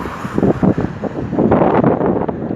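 Gusts of wind buffeting a microphone outdoors, loud irregular rumbling bursts that rise and fall, heaviest in the second half.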